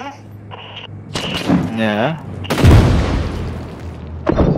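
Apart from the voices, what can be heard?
explosion in video game Six Days in Fallujah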